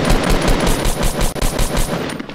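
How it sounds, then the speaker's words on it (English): Rapid automatic gunfire in a Fortnite match rattles in a loud, sustained burst of evenly spaced shots, close and dense, with a brief gap midway before the firing resumes. "we're being sniped from somewhere else"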